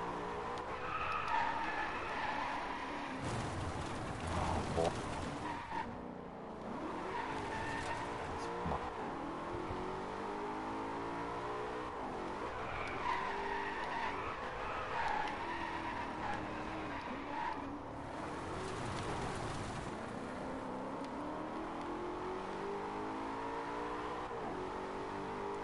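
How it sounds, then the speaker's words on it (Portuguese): In the Driveclub racing video game, a car drifts with long, loud tire squeals and skidding over a revving engine, the screeches swelling and easing in repeated waves throughout. "Que drift lindo! Dá mais!"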